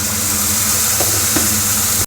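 Spices fry with a splash of water in a pan for Bengali egg curry, giving a loud, continuous close-up sizzle and hiss that cuts off abruptly at the end.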